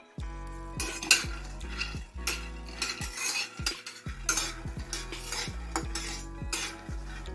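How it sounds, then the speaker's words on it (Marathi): Half a cup of peanuts dry-roasting in a pan, with repeated sharp metal spatula scrapes and clatters in an uneven stirring rhythm over a faint sizzle, close up and without talk. "हे शेंगदाणे आपण खरपूस भाजून घ्यायचे आहेत।"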